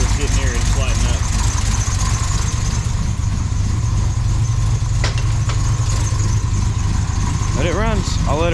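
A freshly reassembled turbocharged car engine idles steadily and loudly throughout, a continuous low rumble with a faint hiss, with a few brief higher squeaks near the end.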